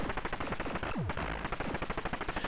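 Rapid, steady electronic gunfire from the Atari arcade twin-stick shooter Rescue, a continuous stream of quick shots with a falling synthesized whistle partway through, with no voices.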